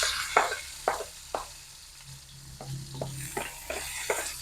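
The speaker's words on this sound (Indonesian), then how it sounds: "Kita tumis-tumis sampai harum aja teman-teman" Shallots and garlic sauté in a pan under a soft sizzle, with a spatula scraping and tapping in a steady rhythm of about a dozen strokes, close and without voices.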